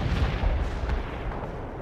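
Battlefield artillery and rocket launcher fire in the World in Conflict game, a dense continuous rumble of distant booms rolling together with no clear gaps, steady and fairly loud throughout.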